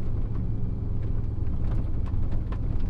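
A car with a newly fitted clutch that is still bedding in drives along, producing a steady low engine rumble with slight surges, heard from inside the cabin without talking.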